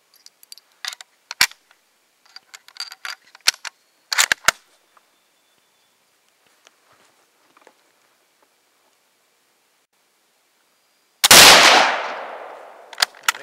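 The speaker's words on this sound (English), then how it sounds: "2 more rounds left, I'm just going to shoot them up." Gunfire finishing off the last two rounds after a hang fire, sharp cracks and mechanical clacks scattered early, then quiet, then one loud close blast with a decaying roar near the end.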